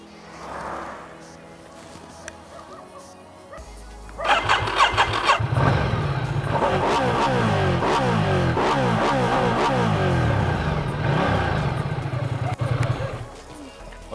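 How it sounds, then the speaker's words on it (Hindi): A Ducati Diavel 1260 S motorcycle cranks and fires into a loud, close idle, then blips through a series of sharp revs with a deep, throbbing exhaust note before cutting off, after a faint voice at the start. "इसके एग्जॉस्ट नोट्स आप सुनेंगे तब आपको पता चलेगा कि इसका नाम Diavel क्यों है"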